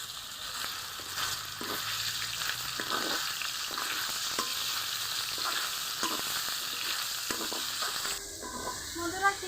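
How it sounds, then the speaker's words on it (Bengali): Chicken pieces sizzle and crackle in a little hot oil in a wok, a steady frying hiss with occasional stirring scrapes, no talk. "তেল গরম হয়ে গেছে, এখন আমি চিকেনটা দিয়ে দিব।"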